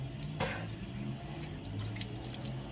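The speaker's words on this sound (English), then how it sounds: "I'm just gonna rinse off this portion" Tap water runs faintly and steadily while rinsing off skin cleanser, with one brief, brighter splash near the start and soft trickling after.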